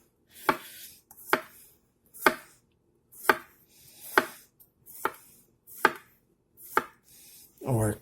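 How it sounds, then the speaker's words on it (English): A SHAN ZU 8-inch chef knife slicing food thinly on a board, about nine crisp, evenly spaced cuts, close and clear against a quiet room. "It's very easy to cut very thin slices if you want to."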